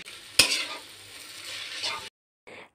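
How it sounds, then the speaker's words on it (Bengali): Korean-style noodles being stirred in a hot pan, with steady close sizzling frying and a sharp metallic scrape of the utensil at the start, then a brief silence before a short final sizzle. "এখন আমি নাড়াচাড়া করে নিব।"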